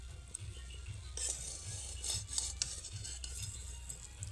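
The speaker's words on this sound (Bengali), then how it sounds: "মাছটাকে উল্টে দিচ্ছি দেখুন" A fish is turned in a dry pan with no oil over a very low flame, with soft scraping and light metallic clinks against a faint sizzle, quiet and close.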